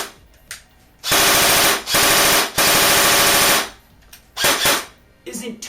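A G&G Firehawk airsoft gun fires full auto on a 7.4 volt LiPo battery in several loud, rapid buzzing bursts, with brief pauses between them and a short burst near the end.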